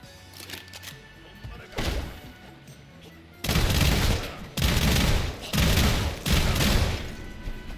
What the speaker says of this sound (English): There's a burst fire SMG that we turn into a shotgun. Fires 2 shots.